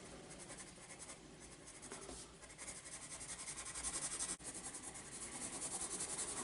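A pencil scratches steadily across paper, shading and blending the bottom of a dark, moody sketch into deep black, a continuous soft dry rasp heard close and quiet, with no talk.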